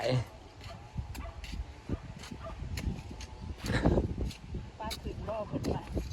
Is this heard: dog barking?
yes